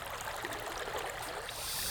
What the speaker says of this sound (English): as Darren waded into the dark river, the water cool against his skin